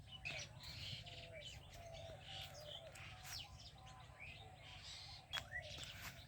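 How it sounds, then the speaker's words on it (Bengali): Birds chirp and call sporadically on a rural winter morning, brief tweets scattered over a steady low background hum, moderately distant and faint, with an occasional pigeon-like coo. "একটু পাখির কিচিরমিচির শব্দ আপনারা শুনতে পাচ্ছেন নিশ্চয়ই।"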